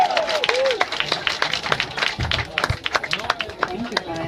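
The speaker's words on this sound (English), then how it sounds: "Let's give her another round of applause" A salon audience gives a performer another round of applause, scattered and fairly light clapping with voices talking over it.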